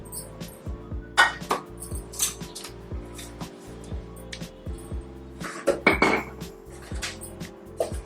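A metal tawa griddle set on the stove for aloo paratha, with repeated clanks and clatters of metal pans and utensils, fairly close and loud, alone without talk.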